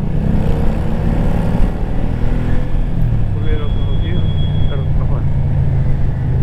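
A tractor engine labours under load with a steady low drone and rumble, loud and close throughout, pulling near a deep-digging excavator.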